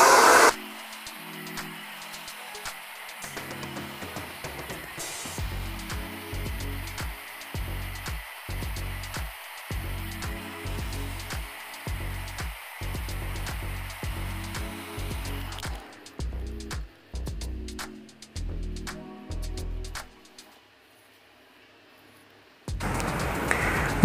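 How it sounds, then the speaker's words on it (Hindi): Hair dryer blowing hair dry while a brush works underneath in an in-turn blow-dry, a steady airy whoosh broken by short rhythmic bursts and pauses, cutting out briefly near the end before returning. "यानी कि ब्रश हमेशा नीचे रहेगा और ऊपर ड्रायर रहेगा।"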